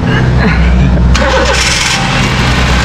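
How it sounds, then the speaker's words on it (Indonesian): A Honda Jazz engine cranks and fires up during an automatic transmission fluid flush, with a sharp change partway through as it catches. It then runs on loudly and steadily at close range. "Oke, coba starter."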